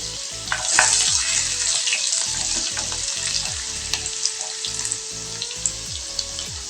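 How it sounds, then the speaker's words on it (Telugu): Crushed garlic sizzles steadily in hot oil in a pan for a stir-fried ridge gourd and spinach dish, a loud continuous crackle with a few sharper pops and stirring scrapes, no voices. "ఆయిల్ వేడెక్కింది కదా, ఇప్పుడు పచ్చగా దంచుకున్న వెల్లుల్లి వేద్దాం"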